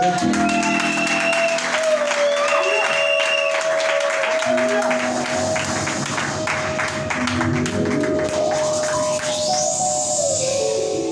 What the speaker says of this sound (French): Une salve d'acclamation à la présidente du voix d'archange.